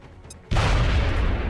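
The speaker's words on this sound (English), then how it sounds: "Throwing grenade." A grenade explosion in XCOM Long War sets off a sudden loud, broad boom that holds as a sustained rumbling roar for over a second after a quiet lead-in.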